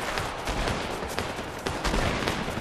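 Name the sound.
shotgun fire in a video game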